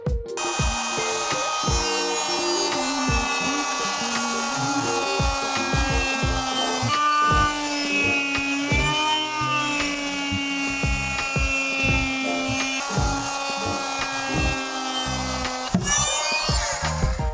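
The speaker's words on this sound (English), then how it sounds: "Time to use the Dremel." A Dremel rotary tool cuts into wood with a continuous, loud, high-pitched whine that bends in pitch as it grinds through the material. It runs steadily for most of the time before stopping abruptly near the end.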